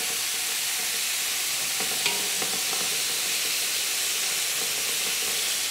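Pork tenderloin medallions searing in a hot pan, giving off a loud, steady hiss of sizzling fat that stays even throughout, with a couple of faint knocks and no talking.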